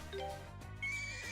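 A horse in the video game Ys: Memories in Celceta gives a short whinny over soft game music, close and clear.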